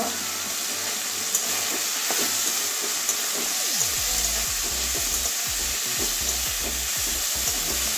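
Pumpkin, potato and eggplant fry with coriander and cumin powder in a pan for a Bengali drumstick-leaf dish, a steady sizzle and hiss with spatula scrapes and stirring knocks, close and alone.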